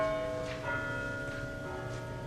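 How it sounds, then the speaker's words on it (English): Church chimes on a neighboring church strike the quarters. The bell tones are moderate, sustained and ringing, with overlapping strokes over a low background hum. "The chimes on a neighboring church struck the 4 quarters, so he listened for the hour."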